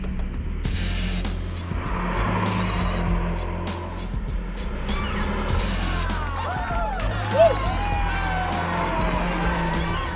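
Race cars lapping a track, engines droning and passing with tire squeal over a steady crowd-like wash, moderately loud and continuous.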